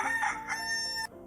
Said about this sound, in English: If there is a rooster nearby, you can hear it crow.